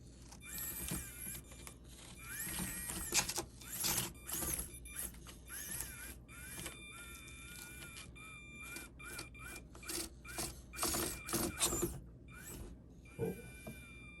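A small electric motor of an HBX Devastator RC car whines and squeals in fluctuating bursts as it drives around, with scraping and rattling mixed in, no voices.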